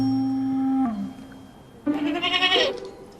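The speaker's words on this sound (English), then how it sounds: "3-year-old Fusilier Llewellyn II is the 1st Battalion's new goat mascot." Fusilier Llewellyn II, a young regimental goat mascot, bleats twice: a long steady nasal cry that bends at its end, a pause, then a louder, wavering bleat, close and with no talk over it.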